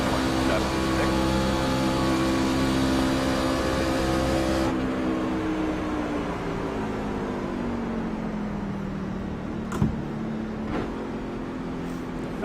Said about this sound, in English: It's just a truck race.